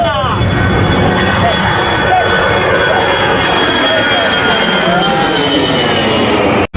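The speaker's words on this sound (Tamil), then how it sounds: "அங்கே பாருங்க ஃப்ளைட் வருது பாருங்க மதுரையில்" A fixed-wing aircraft passes overhead above Madurai, its engine roar steady and broad throughout, heard from the ground with people talking over it.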